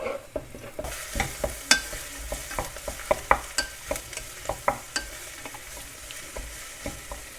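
Fried rice and broccoli stir-fried in a pan: a soft sizzle under a steady run of sharp spatula scrapes and taps, close and fairly quiet, with no talk.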